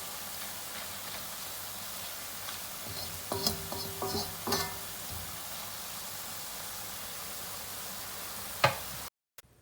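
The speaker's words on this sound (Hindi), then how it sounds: "गोल्डन ब्राउन होने तक हम लोग फ्राई करेंगे।" Dahi bhalla lentil dumplings frying in hot oil, a steady soft sizzle throughout with a few louder bubbling bursts and clinks midway, no talk, ending abruptly.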